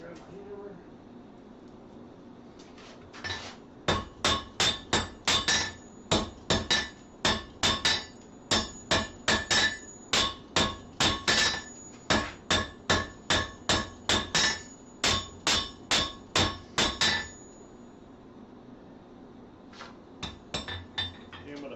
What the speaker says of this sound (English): Grab my hammer.